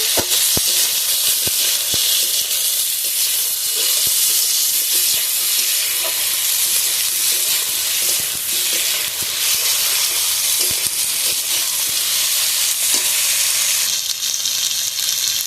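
Tomatoes frying in a pan with ginger and garlic, a loud steady sizzling hiss close up with faint scraping clicks of stirring, no talking.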